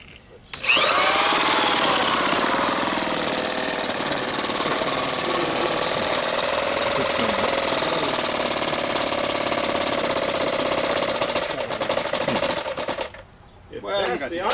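A rebuilt old engine, an early build with a carburetor, starts and runs with a loud, steady, buzzing clatter for about twelve seconds, then stops abruptly, with a voice faintly audible underneath.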